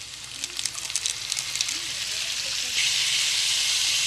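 Onions sizzling with seasoning in a hot pan for pancit bihon, a steady frying hiss that swells louder toward the end, with faint stirring clicks.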